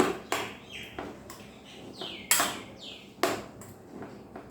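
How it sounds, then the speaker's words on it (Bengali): Torn bread being mixed with two eggs in a bowl, sharp irregular knocks and scrapes of a utensil against the dish, close and fairly loud, with faint ringing after each hit. "এবারে ডিমের সঙ্গে এই পাউরুটিগুলো খুব ভালো করে মিশিয়ে নিতে হবে"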